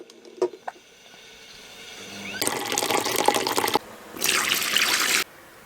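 Tap water gushes to fill a bath aboard a sailboat, starting after a few clicks and drips as a loud, steady splashing stream that stops, then restarts briefly before cutting off.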